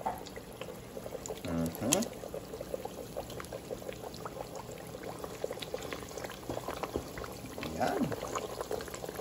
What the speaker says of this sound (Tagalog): Yan po natin siyang maprito muna.